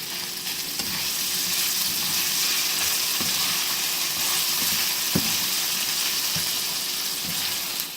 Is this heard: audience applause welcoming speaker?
no